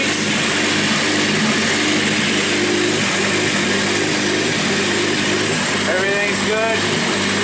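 A fully built turbocharged Honda D16 engine runs loud and steady on its first start, with a pair of brief revs rising near the end.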